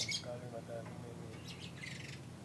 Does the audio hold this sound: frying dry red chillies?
no